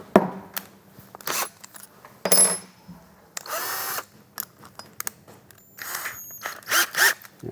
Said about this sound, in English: Drill a hole into our plasterboard.